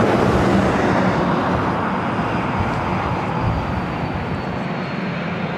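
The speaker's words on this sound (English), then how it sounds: "look at the Southwest flight that Rudy said was pushing back" A Southwest airliner pushes back at LAX, giving a steady, loud broadband jet rumble that holds throughout and eases a little near the end, with no voices.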